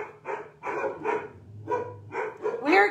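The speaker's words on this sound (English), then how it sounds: "Sorry about the dogs." Several dogs bark in a home kitchen in a run of about seven short, mid-loud woofs with brief gaps, ending in a higher yip or whine.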